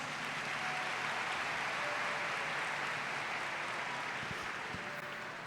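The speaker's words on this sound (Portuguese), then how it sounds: "pode dar um salve de palmas" Church congregation applauding at a Sunday family worship service, a steady dense wash of clapping that holds evenly throughout and tapers slightly at the end.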